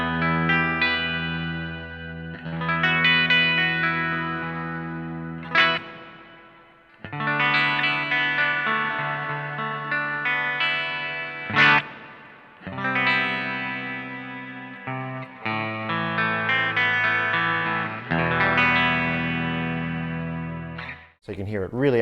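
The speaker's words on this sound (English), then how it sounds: "That's the Vahlbruch Pipeline Reverb pedal." A clean electric guitar plays through a Vahlbruch Pipeline Reverb pedal set high, with strummed chords and phrases ringing out into deep, spacious tails, a few brief pauses between passages.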